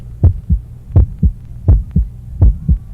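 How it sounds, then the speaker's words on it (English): A human heart beating: loud, close, muffled thumps in pairs, a strong beat followed quickly by a softer one, repeating steadily about four times in a low, throbbing rhythm. "my beating heart, my heartbeat keeps on hammering"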